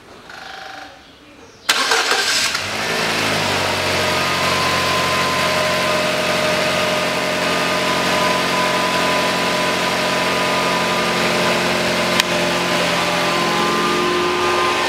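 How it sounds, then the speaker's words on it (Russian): A 2009 Nissan Qashqai 2.0 4WD engine cranks and fires after a CVT fluid and filter change, then settles into a steady, close idle that hums on for over ten seconds with no talk. "запускаю двигатель и смотрю на подтекание."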